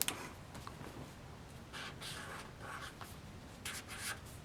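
A pen writes out a playing card's name, with soft scratchy strokes in short bursts that start and stop, close and quiet, with no talking.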